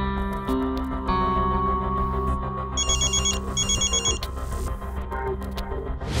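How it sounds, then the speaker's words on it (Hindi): A telephone rings steadily while a call is being placed, a loud electronic ringtone with repeated chiming bursts over a constant droning background, with no one talking. "तारा को फोन करके बता देती हूँ"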